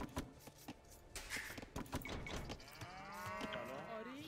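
Cattle mooing in the Age of Empires 2 Definitive Edition strategy game, several drawn-out low moos overlapping with game sound effects over about four seconds, fairly loud and close.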